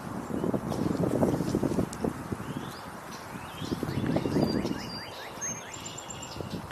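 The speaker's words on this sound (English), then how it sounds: "Just heard a song sparrow again singing." A song sparrow sings outdoors in spring, its brief high phrases faint and distant over steady wind and rustling leaves, with other birds calling around it.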